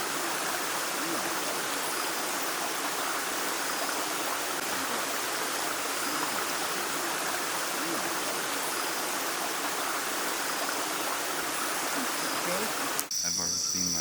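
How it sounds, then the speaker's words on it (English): A small forest waterfall and nearby streams give a steady, full rush of flowing water that does not change throughout, with a faint click near the end. "There was a small waterfall nearby, surrounded by ponds, streams, and a bunch of leaf litter"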